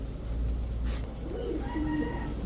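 Giribaj high flyer pigeons coo softly over a steady low background hum, with a few faint calls and no talking.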